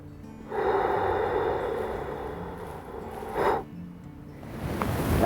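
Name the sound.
deep inhalation during breathing exercise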